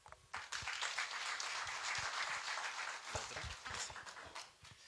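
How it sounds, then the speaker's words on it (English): Audience applause for youthful trainees at a TVET centenary celebration at Kabete National Polytechnic, a sustained burst of many hands clapping that rises quickly, holds steady and tapers off. "I think a good applause for youthful trainees."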